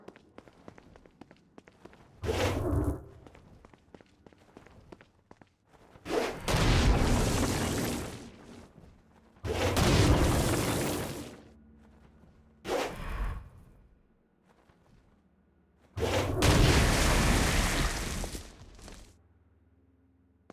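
Stone Blast explosions in the video game Saints Row: Gat Out of Hell, several loud booming bursts fired in separate blasts, each with a rumbling tail, quieter game ambience between them.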